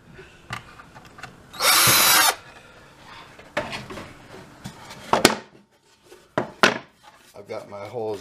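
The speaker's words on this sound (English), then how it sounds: "I'm going to drill a pilot hole" A cordless drill with a small bit whirs briefly into wood, drilling a pilot hole in a short loud burst, amid scattered handling clunks and knocks with voices nearby.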